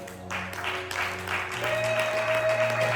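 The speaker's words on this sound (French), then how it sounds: "Est-ce que quelqu'un peut acclamer pour Jésus?" An audience applauding and cheering for Jesus at a church service, steady clapping that swells slightly, with sustained organ or keyboard tones underneath.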